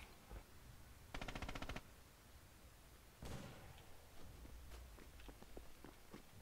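Crossfire in a World War II style video game battle between Russian and German sides, with a rapid machine-gun burst, a sharp blast later, and scattered fainter shots at low overall volume.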